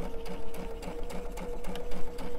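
A sewing machine with digital dual feed stitches fabric for a stuffed elephant toy, a fast, even mechanical chatter with regular needle thumps running throughout, close and clear with no speech.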